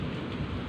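A thunderstorm over a street, with steady heavy rain hissing across the whole short stretch and a low rumble of thunder underneath, loud and continuous with no voices.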